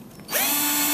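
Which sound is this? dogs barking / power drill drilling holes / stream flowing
power drill drilling holes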